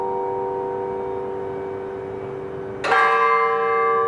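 Automated church bells of a cathedral tower sound a steady tonal chime, then a fresh bell stroke rings out loud and near, its overtones sustaining as it decays alone without talk.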